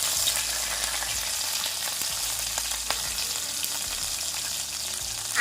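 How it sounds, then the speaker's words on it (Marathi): Curry leaves and green chilies sizzle steadily in hot oil for upma, a dense, even crackle with occasional louder pops and faint stirring, heard close with no talking. "त्याचबरोबर मी कढीपत्ता सुद्धा टाकत आहे आणि मिरची सुद्धा टाकत आहे"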